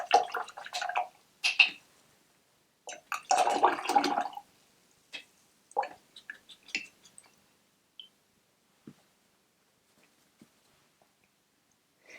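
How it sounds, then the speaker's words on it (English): Acrylic paint brush swished and rinsed in a water jar, giving brief wet splashing and clinking bursts that thin out into a few sparse drips and taps, close by with no talking. "I'm going to wash my brush out"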